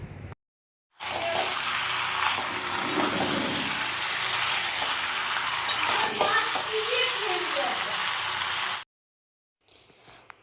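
Chilli chicken sizzles loudly in a hot pan while being stirred, a dense continuous frying hiss with scraping movements, starting abruptly and cutting off near the end, with faint sounds before and after.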